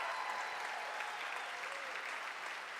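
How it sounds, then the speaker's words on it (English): Dense, continuous clapping from a large audience at a comedy competition for accountants, steady and fairly loud, with no voices standing out. "let's give a round of applause"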